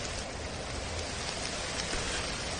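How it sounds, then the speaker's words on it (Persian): Steady rain falls hard and evenly, a dense close hiss that carries on without a break and with no voices. "باران بارید"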